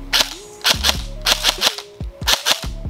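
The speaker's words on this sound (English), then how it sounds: "we are going to see how these things actually shoot" Electric airsoft guns fire on an 11.1 LiPo battery in short rapid bursts, close and loud, the snappy shots grouped in quick clusters with a motor whir between them and no voices.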